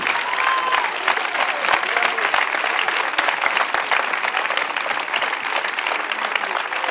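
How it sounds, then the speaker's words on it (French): A theatre audience at a film event claps loudly and continuously, a thick, sustained applause with a faint murmur of crowd voices beneath it. "Allez, vous applaudissez."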